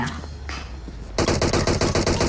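A rapid burst of automatic gunfire in PUBG Mobile erupts after a second of quieter background noise, loud and continuous to the end.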